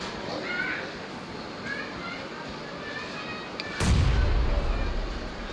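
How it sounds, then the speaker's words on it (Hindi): In a PUBG-style battle royale game, gunfire and blasts rumble under steady game noise, and a loud grenade explosion booms near the end, heavy and close. "भाई नेड फूटने के साउंड आता है।"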